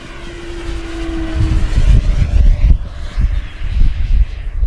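A Flightline 1600mm Corsair RC model airplane on a 6s lipo flies past inverted, its electric motor and propeller buzzing loudly as it passes close, with a steady whine that shifts pitch as it goes by.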